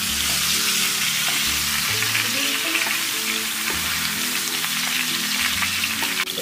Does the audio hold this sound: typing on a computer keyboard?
no